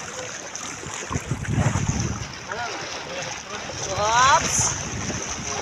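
Strong sea waves surge and wash beside a small boat out on the open sea, with wind buffeting the microphone throughout and a swell rising louder near the end, while people talk and exclaim over it.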